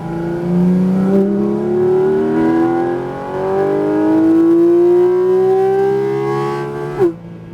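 A Porsche Cayman GT4 RS on the Superspeed Orlando track screams through a long rising rev, climbing steadily in pitch before a sharp drop at a gear change, loud and close with no voices.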